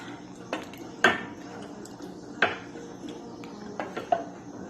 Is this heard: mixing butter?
yes